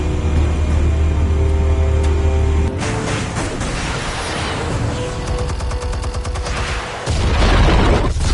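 Explosives go off in a Batman video game, with loud, booming blasts and rumbling gunfire-like bursts that stay heavy throughout, then a fresh surge of detonation near the end.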